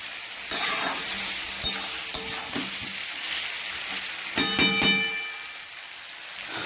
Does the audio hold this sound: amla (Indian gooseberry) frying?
yes